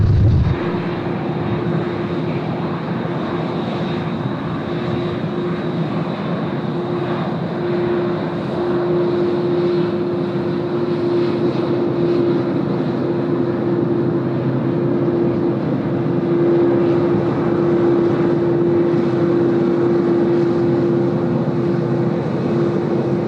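Garuda Indonesia jet powers up for takeoff from runway 16 right at Sydney Airport, a loud, continuous engine roar with a steady whine running throughout, distant but heavy and unbroken.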